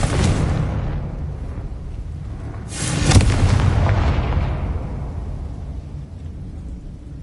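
An explosive blast from the Confringo fire spell in Hogwarts Legacy, beginning loud and booming, then a second sharper burst of crackling fire near the middle that rumbles and slowly fades, with no talking.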